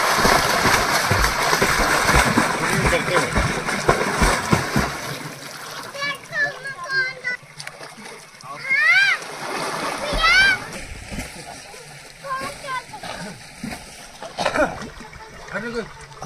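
Young men bathe in a natural village pond in rural Uttarakhand, splashing loudly and repeatedly in the water as voices chatter and call out nearby throughout.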